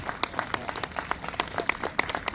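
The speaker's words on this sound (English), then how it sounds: "I wanted to give him a round of applause" A small group applauding at a Formula Drift Hall of Fame statue unveiling, scattered claps rattling in an uneven rhythm, moderately near, with no talking over it.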